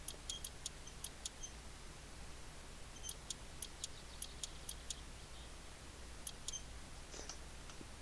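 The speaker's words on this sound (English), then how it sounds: "go ahead and bolt these on. The socket set is very slow for this." Socket set ratcheting bolts onto car parts in the game My Summer Car, heard as quiet bursts of rapid clicking ticks in short clusters over a low steady hum, with no talking.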